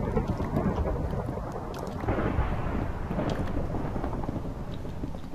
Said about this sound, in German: Und es gewittert, hä?